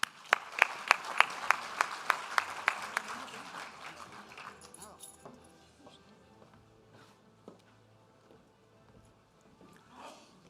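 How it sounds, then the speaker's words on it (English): Applause from an awards-ceremony audience begins as rhythmic unison clapping, then thins into scattered claps that fade away, with faint voices murmuring underneath. "Let's give them a round of applause."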